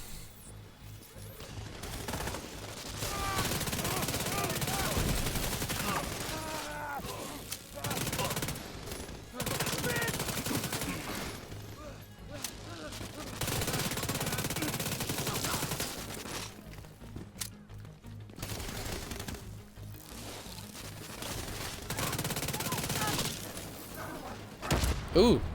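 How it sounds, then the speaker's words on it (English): Enemy gunfire in The Division 2, sustained automatic bursts crackling almost continuously for the whole stretch with a few short lulls, loud and close with game effects mixed in. "he's shooting at me"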